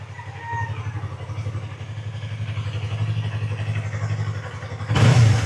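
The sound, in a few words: Yamaha YZF motorcycle with slip-on exhaust revving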